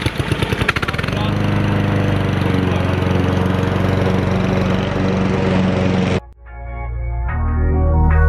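A 2020 Toro Super Recycler self-propelled push mower with personal pace drive runs loud and close, its engine droning steadily for about six seconds before cutting off abruptly, leaving a quieter tonal sound behind.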